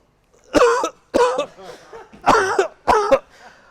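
Four harsh, forceful coughs burst out in quick succession, close up, with short pauses between them.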